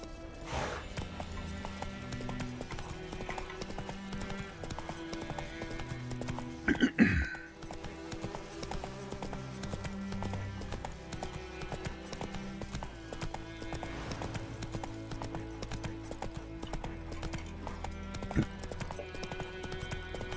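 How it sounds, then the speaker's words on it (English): Roach, the horse in The Witcher 3 video game, gallops with a steady, fast clip-clop of hooves, moderately quiet and continuous under background music, with a brief louder burst midway. "Hey, you're a horsey. That's it, Roach."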